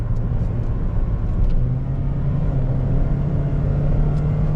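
A Daihatsu Xenia 1.3 CVT in motion, its engine droning loud and steady with a low rumble throughout, holding a constant pitch rather than a clear rev climb.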